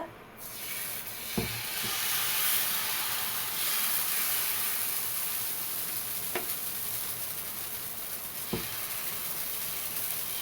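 A dosa of rava and poha batter sizzles on a pan over high gas: a steady, close hiss that runs the whole time, with a few faint clicks.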